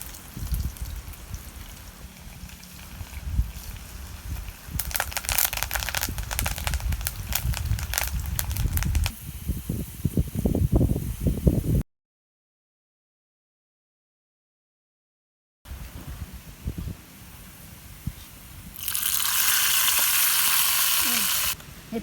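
Chopped shallots dropped into hot sesame oil with mustard seeds for tempering a village-style dried anchovy kuzhambu give a loud close sizzle with stirring scrapes, a brief silent break, then a renewed bright hissing fry.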